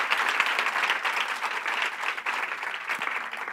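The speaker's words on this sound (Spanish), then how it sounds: "Dale un aplauso a Jesús" A church congregation breaks into sustained applause, a dense, even wash of many hands clapping together that fills the room without pause.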